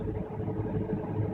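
An autonomous tractor works a canola grain harvest, its engine a steady, fairly loud mid-pitched drone that rumbles without a break.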